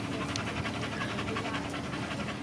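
A hot dog pants quickly and steadily up close, a continuous rhythmic breathy huffing on a sailboat, with no talking.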